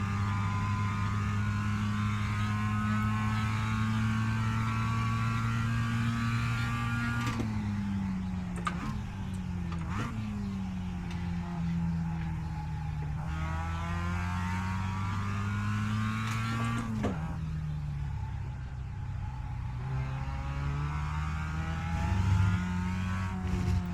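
Race car engine in the iRacing sim droning steadily at a low, constant pitch while being driven slowly around the track, with brief dips and shifts in tone and a faint higher whine, no talking.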